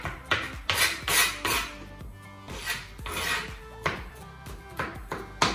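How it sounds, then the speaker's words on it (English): A kitchen knife chops two garlic cloves on a board, brisk irregular taps and scraping strokes coming in quick clusters, close and fairly quiet. "And now I'm gonna put in that little bit of garlic, those two cloves, and I'm just gonna chop them up just a little bit more."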